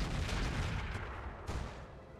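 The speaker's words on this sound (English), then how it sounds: "And we're going to fire the Thumpers over at... Hit odds are exactly the same, so we're going to fire at this Catapult." Thumper artillery in the video game RogueTech firing at a Catapult mech: a heavy, low booming barrage with a couple of sharper reports, moderately loud and without speech.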